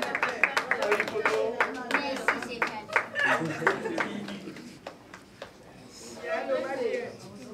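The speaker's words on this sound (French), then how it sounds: "On peut applaudir s'il vous plaît." Scattered hand claps from an audience at an African artists' and comedians' trophy award ceremony, irregular and close, mixed with voices and chatter, thinning out before a brief swell of talk near the end.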